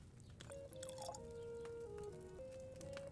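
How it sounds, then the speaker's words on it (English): Liquid is poured from a cauldron into a potion flask during alchemy in Kingdom Come Deliverance 2, a faint trickling pour with a sustained tonal ring, quiet and unaccompanied by talk. "And then we can pour that into a potion."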